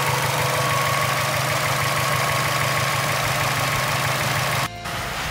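A 2004 Subaru WRX STI fitted with a Perrin short ram intake idles close by with a steady, throaty rumble, uninterrupted by talk apart from a brief dip near the end.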